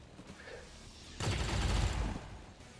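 A sudden loud burst of gunfire in an XCOM tactical battle, lasting about a second with a heavy low rumble, then tailing off.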